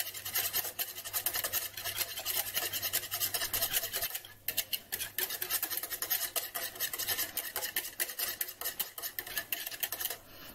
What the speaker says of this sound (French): Nous allons fouetter de nouveau.